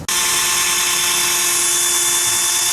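A power polisher buffs a Ford F150 Eagle Eye truck headlight on a third polishing pass, a steady, loud high-pitched whine that starts abruptly and runs continuously at close range with no talk.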